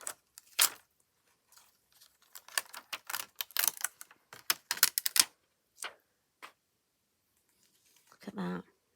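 A sticker stencil being peeled off paper gives a string of quick crackly rips and ticks, close and fairly quiet, coming in uneven bursts with pauses between them.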